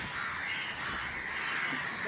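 Crows gathered near a coconut tree during coconut breaking, heard faintly and at a distance as a few harsh caws over a steady background hiss.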